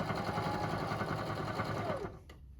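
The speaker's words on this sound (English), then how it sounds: "We don't want to ruin our sewing machines." A sewing machine stitches a cotton pillowcase at steady speed, a loud close continuous mechanical whir with rapid needle rhythm that slows and stops near the end.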